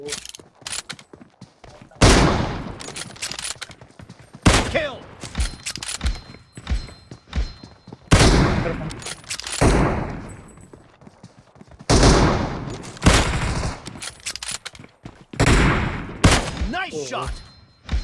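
Sniper rifle shots ring out in a team deathmatch shooter game, loud sharp cracks arriving in irregular bursts every few seconds with echoing tails, while game announcer voices speak between them.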